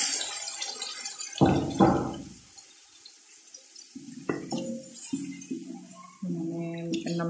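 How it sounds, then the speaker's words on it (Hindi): Water added to a cooking pot while making beef pulao: two short gushing splashes of poured liquid up close, followed by quieter clinking and kitchen sounds. "अब मैं इसमें थोड़ा सा पानी शामिल करूंगी"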